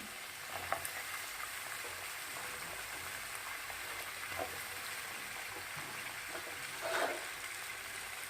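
Vegetables and spices stir-frying in hot oil for a vegetarian curry with jackfruit seeds, a continuous close sizzle broken by scattered scraping stirs and a louder clatter near the end.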